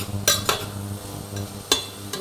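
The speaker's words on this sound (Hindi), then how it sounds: "इन सबको अब हम भून लेते हैं।" Potatoes and green peas are sautéed in a pan while a utensil scrapes and knocks against the metal in a few distinct, fairly loud strokes over a faint sizzle.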